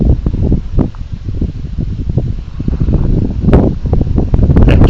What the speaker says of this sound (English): I hope the wind isn't being as terrible as what it sounds.